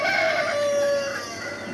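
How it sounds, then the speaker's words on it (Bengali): A rooster crows once nearby in a loud, drawn-out call that fades into soft hen clucking and farmyard murmur, with no talking. "আমাদের এই মুরগিগুলা"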